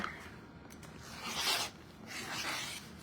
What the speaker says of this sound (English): Just going to cut a cleansing cut here.